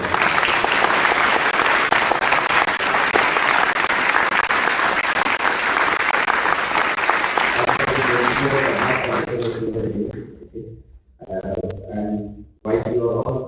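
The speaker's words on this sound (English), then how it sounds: "Can I have a round of applause much louder?" Loud, sustained applause from a conference audience fills most of the stretch, then tapers off as someone speaks into a microphone at the front of the hall.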